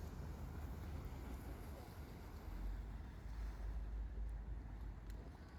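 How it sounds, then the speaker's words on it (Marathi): Boat moving on the water during a ride in Hamburg, heard as a steady, dense rush of water and wind noise that stays loud and continuous throughout. "आता आपली बोट आपल्या समोर आलेली आहे आणि आपण आता बोटमध्ये चाललोय"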